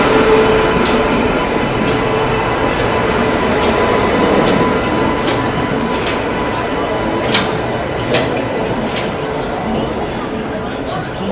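The Sampoorna Kranti Express, hauled by a WAP 7 electric locomotive, rumbles and rattles steadily and loudly close by, with faint voices in the background.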